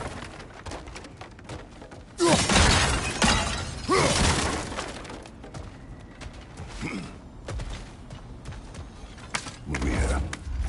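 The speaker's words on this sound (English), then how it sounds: "back to smashing through things for fun and profit." Objects smash and shatter in the video game God of War Ragnarok, several loud crashing breaks with creaks and debris between them, with faint game dialogue in the background.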